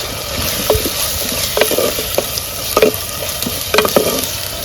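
Chopped onions for chicken curry frying in hot oil, a steady dense sizzle with a few sharper stirring clicks and scrapes spaced through the passage, close and fairly loud, no talking.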